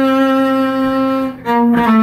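A cello plays a short phrase from Bréval's Sonata in C, measures 82 to 85, with sustained bowed notes and a brief break before the final tones, close and clear.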